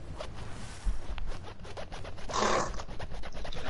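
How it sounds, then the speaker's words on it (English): A trouser zipper is pulled up close, giving a continuous scratchy rasp that swells into a brighter stretch partway through before trailing off. "listen to the zipper of me pants."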